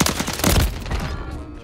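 Rapid gunfire rings out in Call of Duty: Modern Warfare 3 Cutthroat beta gameplay. A loud, dense volley of shots comes in the first second, then fades quickly into a short reverberant tail.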